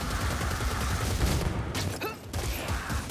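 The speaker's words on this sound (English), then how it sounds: "Is that a rattling gun?" Ratling gun firing in Warhammer: Vermintide during a fight in The Pit, a dense continuous rattle of rapid shots that barely lets up, with a brief dip near the end before the barrage resumes.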